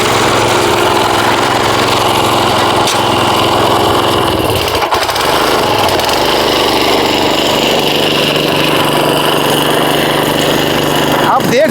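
A power tiller engine runs steadily and loud throughout in a field, a continuous mechanical drone with a brief dip midway, people talking over it.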